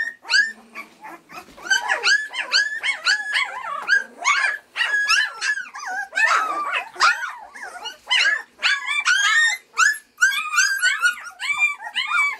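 Young red standard poodle puppies, about sixteen days old, wrestling together and vocalizing with a busy stream of high yips, whimpers and squeaky barks, close up and with no talking.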